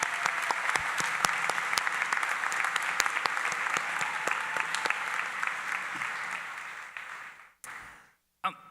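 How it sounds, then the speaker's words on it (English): Students at a new student convocation clap for their parents, a broad, sustained round of applause that fades out near the end. "if you wouldn't mind just clapping for your parents and congratulating them"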